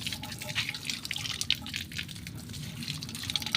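Water splashes and drips while a spade is washed at an outdoor tap area, a close, continuous patter of running and dripping liquid with scattered small knocks, no voices.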